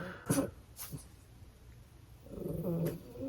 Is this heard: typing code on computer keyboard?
no